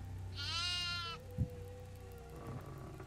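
A goat bleats once in the Devour video game, a quavering, wavering cry lasting under a second, followed by a thud and low droning ambience.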